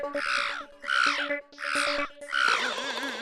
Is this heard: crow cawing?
yes